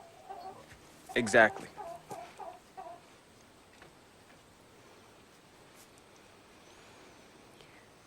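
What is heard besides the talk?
chickens clucking near a chicken coop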